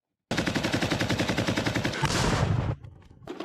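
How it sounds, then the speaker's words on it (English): Rapid bursts of automatic machine gun fire ring out at a front line in a close, loud rattling stream, giving way to a harsher roar before fading into a pause and a final shot. "Where the front rumbles and machine guns are firing"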